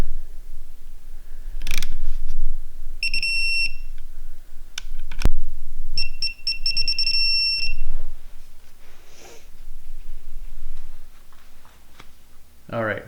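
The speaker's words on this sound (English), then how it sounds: "I'm going to go through and torque them all down" A torque wrench set to 6 newton metres tightens cam cap bolts on a cylinder head with repaired cam journals. Close mechanical clicks and creaks come in bursts, each joined by short high electronic beeps.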